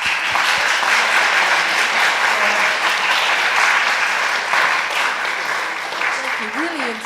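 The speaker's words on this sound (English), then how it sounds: "Let's have a round of applause." Sustained applause from an audience at a school climate strike event, a dense steady wash of clapping lasting throughout with faint voices mixed in.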